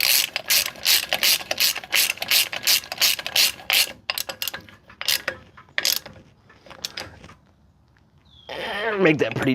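A ratchet tightens a brake lock nut in rapid clicking bursts, loud and close, slowing to scattered clicks and quiet before a voice speaks at the end.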